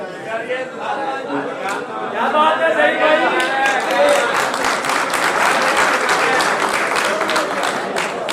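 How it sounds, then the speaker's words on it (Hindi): Audience applause at an Urdu poetry gathering welcoming a poet, steady clapping with crowd chatter and a voice over it, swelling and continuing throughout. "आपकी तालियों में"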